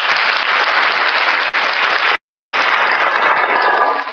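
A class claps together in a recorded lesson, producing loud, continuous clapping that cuts out briefly for a moment of silence and then resumes just as strongly.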